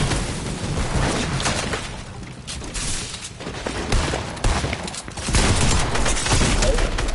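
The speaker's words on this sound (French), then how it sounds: "J'essaie de tirer au canon là sur la maison." Cannon and gunfire erupt in a PC shooter as a player fires at a house, a dense stretch of repeated blasts and crackling shots that stays loud throughout, with battle noise layered on top.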